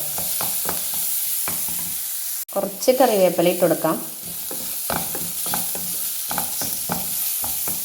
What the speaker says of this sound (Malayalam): ഒന്ന് മൂപ്പിച്ചെടുക്കാം പച്ചമണം മാറുന്ന വരെ ഒന്ന് മൂപ്പിച്ചെടുക്കാം